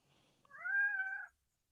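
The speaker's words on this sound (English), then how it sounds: "Kitty." A cat gives a single clear, drawn-out meow lasting under a second, close and alone in a quiet setting.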